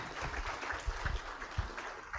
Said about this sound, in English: let's give Eddie Johnson and Jay Wesley another round of applause.